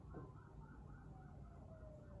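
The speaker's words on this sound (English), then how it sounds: "And I hear ambulances outside." Ambulance sirens wail faintly from outside, a distant, steady rising and falling tone beneath quiet room noise.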